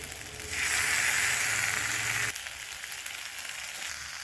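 Biuli dal bori frying in a pan on medium flame gives a loud, steady sizzle for about two seconds, then drops to a softer, continuing crackle.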